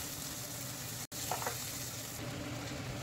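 Tomatoes sizzle and fry in hot oil in a pan, a steady close crackling hiss with a few light stirring sounds and a momentary dropout early on, no voices.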